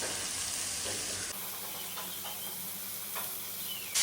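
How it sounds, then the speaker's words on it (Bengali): Figs fry in a pan with shrimp and spices, giving a loud, steady sizzle with scraping stirs breaking through now and then, up close and without talk. "এখন এই ডুমোরটাও এই মাছ মশলার সাথে ভালো করে কষিয়ে নিব।"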